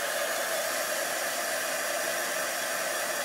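A heat tool roars steadily as it dries freshly stamped paint for a Stampin' Up! wreath stamping project, with a loud, continuous blowing hiss that runs unbroken throughout and no talking.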